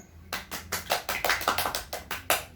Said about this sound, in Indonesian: Tepuk tangan untuk Dika.